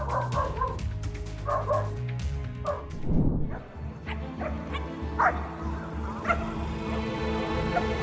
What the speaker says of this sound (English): their dog started barking